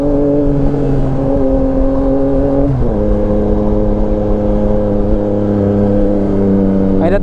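A 2023 Yamaha Tracer 900 GT motorcycle with a remapped engine accelerates hard, its loud steady engine tone climbing through the revs with a gear change partway through.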